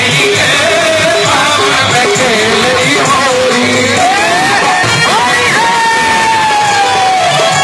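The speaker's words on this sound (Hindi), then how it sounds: "ताली के संग" An audience at a Holi comedy event in Bubna Udyan, Madhubani, cheers loudly, with dense crowd whoops, yells and shouting voices throughout; clapping is hard to make out.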